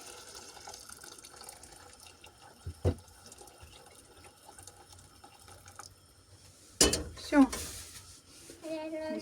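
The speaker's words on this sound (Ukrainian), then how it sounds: "І наливаємо кип'ятка на два пальця вище, ніж у нас є рис." Boiling water splashes and pours into a pot of rice near the end, a brief gurgling burst after quiet kitchen clatter, with a voice speaking faintly.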